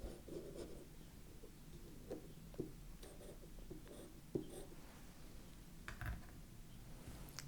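A compass and pencil mark off measurements on paper, with faint scratchy strokes and small taps spread across a quiet background.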